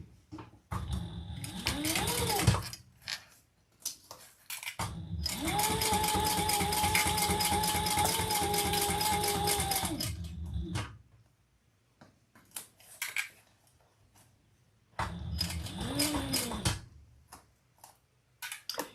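A sewing machine stitches a crossbody bag in three bursts, a short one, then a long steady run of rapid rhythmic stitching with a whirring motor pitch that rises and falls, then another short burst, with quiet pauses between.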